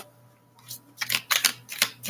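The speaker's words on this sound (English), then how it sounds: "I don't know why it's hard for me to shuffle these." Tarot cards being shuffled by hand, a short run of soft riffling flutters and papery clicks that quicken after a quiet start, close and fairly faint.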